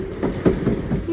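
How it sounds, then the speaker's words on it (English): A cat's exercise wheel, tilted over, spins with a rhythmic rumbling clatter like rolling train wheels, loud and close, with a faint voice now and then. "We have to tilt his wheel over so he doesn't keep us up at night."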